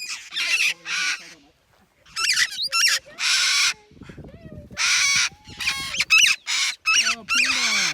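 Cockatoos and parrots in a noisy flock let out harsh, loud squawks and screeches in quick bursts, some long and grating, close by, with a person's brief voice mixed in among the calls.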